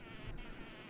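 A housefly buzzes steadily and close up in a cockroach video game, a continuous droning hum that swells slightly midway and carries on without pause for the whole second.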